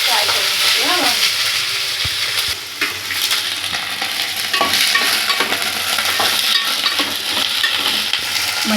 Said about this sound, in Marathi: फ्राय करून घेते हा वांगी